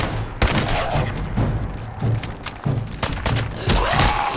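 Rapid bursts of gunfire in Fallout 4 crack and thump in quick succession, loud and close, with a few pauses between volleys and no clear talking.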